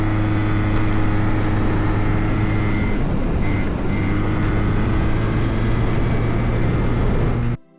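A restored Yamaha Zuma scooter engine runs loud and close in a steady, droning buzz with a constant hum that holds without pause before cutting off abruptly at the end.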